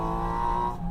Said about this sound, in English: this incredible intake sound, but you don't get the boomy resonance that you got with the GT4 RS before